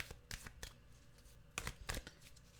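A deck of cards being shuffled, sounding as a few separate bursts of riffling and snapping, fairly close and quiet, with no talking.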